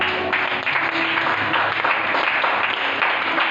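A church congregation claps and applauds steadily, a dense even patter of many hands filling the room at a constant loud level.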